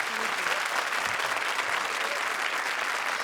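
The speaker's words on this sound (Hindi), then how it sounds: "जोरदार तालियां एक बार फिर" A studio audience at a televised comedy show bursts into sustained, dense applause, steady and moderately loud from start to end with no talk over it.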